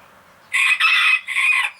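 A young silver Sebright rooster crows loudly and close by, one long call broken into three bright, ringing segments after a brief quiet start.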